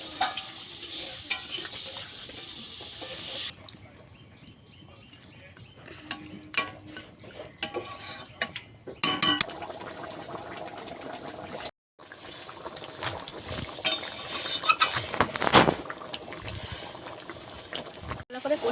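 Water hits a pan of fish kalia curry, setting off sizzling and bubbling, with stirring scrapes and clinks throughout.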